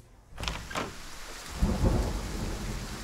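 A thunderstorm with heavy rain hisses steadily. A sharp crack of thunder near the start grows into a deep, rumbling roll midway.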